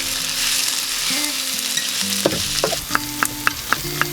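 Onion, shallot and garlic fry in a pan with a constant close sizzle, then a run of sharp clinks and scrapes as a utensil stirs them, no one talking.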